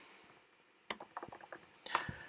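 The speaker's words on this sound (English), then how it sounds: "Typing rapid status" Computer keyboard typing a git command in a terminal: after a quiet opening, a quick run of crisp keystroke clicks follows, ending in a couple of louder, sharper key presses.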